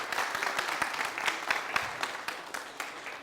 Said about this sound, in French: Je vais vous demander de faire beaucoup d'applaudissements pour le PDG de Nomrogo.